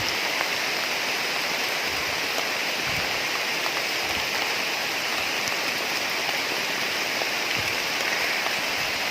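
Heavy rain falls steadily in an even, unbroken hiss, occasional nearby drips and low thumps standing out, no speech, outdoors while mushroom picking.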